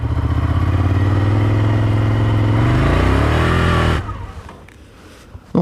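A Ducati Scrambler Desert Sled motorcycle accelerates on gravel, its engine droning loudly and rising in pitch before cutting off abruptly into faint rolling crunch and clatter.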